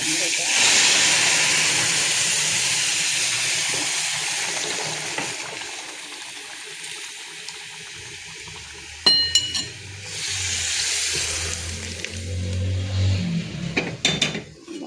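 Steady loud hissing sizzle of cumin, chilies and spices tempering in hot oil in a kadai for dalma, with a brief clatter and crackle near the end.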